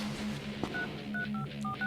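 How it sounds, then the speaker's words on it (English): Keypad tones beep in quick succession as an 11-digit code is entered, short electronic tones over a low steady hum, with no voices. "So Finn entered the 11-digit code and got himself into the Green Lantern"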